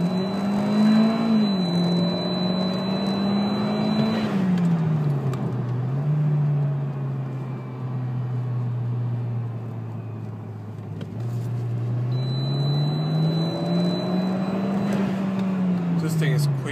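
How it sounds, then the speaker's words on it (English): A 2013 Hyundai Genesis Coupe 2.0T at Stage 1 tuning accelerates hard in third gear, its engine note climbing steadily and loud from close by, easing off midway and then rising again, with someone talking over it. "So I'm in the third gear. Just gonna gun it real quick."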